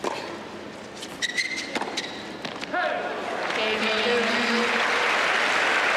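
Crowd applauding at a US Open tennis match, with scattered claps and court thuds at first, then swelling into sustained, broad clapping as a voice talks over it.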